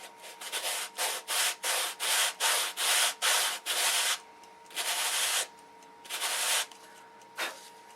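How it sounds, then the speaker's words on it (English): Rhythmic sanding-block strokes rasp back and forth on wood for a control line model plane, quick and regular at first, then slower with pauses between passes; close and clear. "just take a sanding block and"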